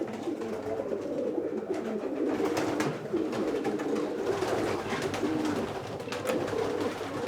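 Racing pigeons cooing inside a loft, layered soft throaty coos from several birds, steady and close throughout, with wing flutters and small knocks scattered in and no one talking.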